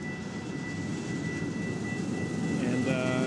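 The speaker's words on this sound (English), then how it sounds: "while we're waiting on the slow train" A CPKC freight train on the Elgin Subdivision near Franklin Park, Illinois, gives a steady low rumble heard from a distance, with a faint high whine near the end.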